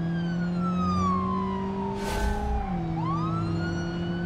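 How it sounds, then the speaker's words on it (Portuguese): Police car siren in a Brazilian driving video game, a loud continuous wail that sweeps down in pitch and then winds back up, heard alone over engine drone. "Tirar a sirene."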